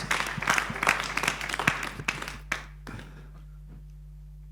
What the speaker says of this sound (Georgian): კიდევ ერთხელ აპლოდისმენტები დაუთმოთ მებრძოლებს.